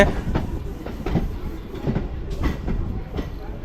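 Rhythmic clickety-clack of an eight-car EMU suburban electric train in Chennai running along the tracks, loud and close, with steady rumbling between the wheel beats.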